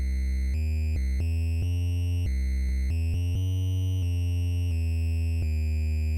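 A low-pitched NES-style triangle wave, played on a keyboard, plays a droning, buzzy sequence of sustained notes that change pitch every half second or so. It is loud and continuous, with no talking.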